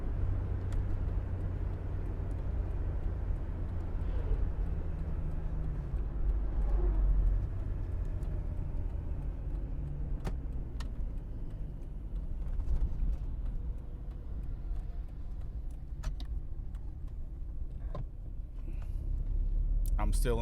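A 1998 Jeep Cherokee XJ four-door with a five-speed manual drives steadily in third gear, its engine and road rumble forming a continuous low drone heard from inside the cabin, with someone talking over it.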